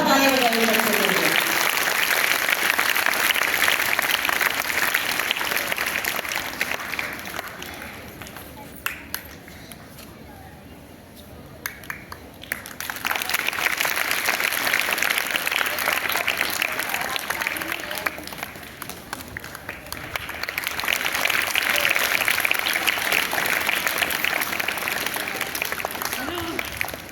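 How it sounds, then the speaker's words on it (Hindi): School audience applauding children receiving the best class trophy at a Delhi government school award event, loud bursts of clapping rising and fading in waves, with a quieter stretch of murmuring crowd and some talk between them. "जोरदार ताली बजाइए बच्चों के लिए।"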